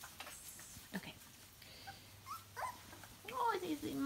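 Young puppies whimper and yelp in short, high-pitched bursts that grow louder toward the end, with soft human voices talking nearby.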